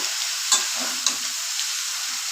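Vegetables with spinach and snails stirred in a hot pan, a continuous hiss of frying under a few soft scrapes of the spoon, close and steady.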